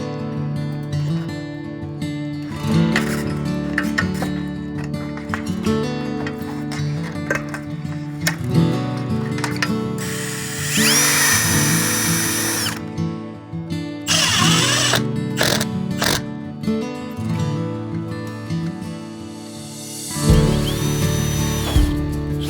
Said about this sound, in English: pre-drill and screw the rest of them